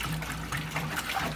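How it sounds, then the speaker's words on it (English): Water dumped into a bioactive paludarium terrarium that doubles as a water area for Borneo eared frog tadpoles, heard as a steady, close splashing gush with a low continuous hum beneath it. "So I'm gonna dump water in here."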